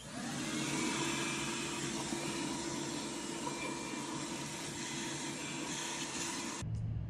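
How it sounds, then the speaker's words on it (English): A steady, whining vacuum cleans debris out of a 1968 Mustang, running continuously at moderate volume with a constant droning hum, cutting off abruptly near the end. "we're going to vacuum that up"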